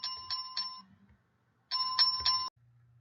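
A notification bell sound effect rings as two bright groups of three quick chimes, separated by a short silence, clear and close with nothing else over it.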